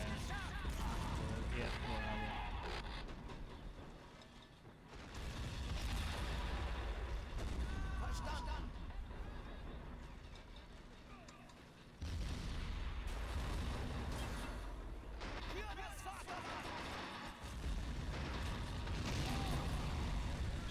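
Mortar and artillery fire in the World War II strategy game Men of War: Assault Squad 2 during a 5v5 multiplayer match, heavy booms and dull thuds rumbling under continuous talk and constant battle noise.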